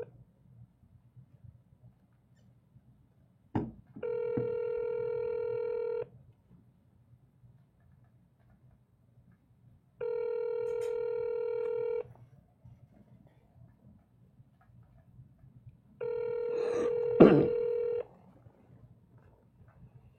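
A telephone dials out twice to a sales lead, each attempt giving a short burst of keypad tones followed by long, steady ringback tones in a quiet room, with faint background noise between.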